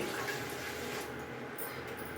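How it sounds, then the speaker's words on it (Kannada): A short, steady rush of water pouring into a vessel, close and fairly loud, with no voices. "ಇದರಲ್ಲಿ ಎರಡು ಕಪ್ ನೀರು ಹಾಕಿದ್ದೀನಿ"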